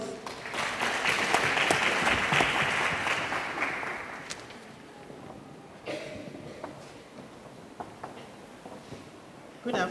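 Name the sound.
audience applause for a speaker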